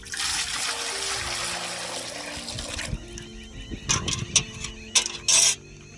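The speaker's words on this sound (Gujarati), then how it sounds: "બટાટા બાફવા પાણી નાખી દેશું" Water pours steadily into a pot for boiling potatoes, a gushing stream lasting a few seconds, followed by several sharp metallic clanks and knocks of cookware nearby.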